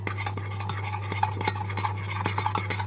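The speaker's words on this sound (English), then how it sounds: "I'm going to add 2 tablespoons of banana custard. Just going to mix this up." A spoon stirs banana custard powder into cold milk, making quick repeated clinks and scrapes against the bowl or cup, close and fairly quiet, with a low steady hum underneath and no talking.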